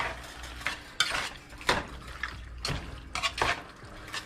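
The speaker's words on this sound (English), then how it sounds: "now is where you want to get that good stir in" Thick cheese dip stirred in a pot, with a spoon scraping and knocking against the sides in irregular strokes and soft wet squelching, close and moderately loud.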